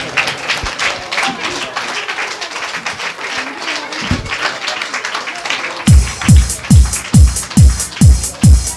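An audience claps at a church Christmas celebration in Kosta, bursting into several strong, rhythmic rounds near the end after a stretch of busy crowd chatter and talking.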